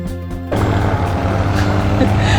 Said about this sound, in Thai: ดี๋ยวไปกับเรือหางยาวก่อนแป๊บนึง เสียงดังมาก